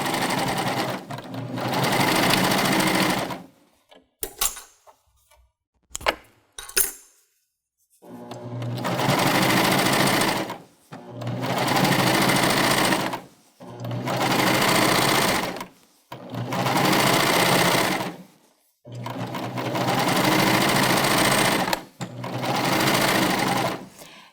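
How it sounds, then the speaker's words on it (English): A Baby Lock Euphoria sewing machine stitches fabric in steady whirring runs of a few seconds each, separated by short pauses and small clicks of repositioning, close and even. "I'm going to just begin stitching around my fabric"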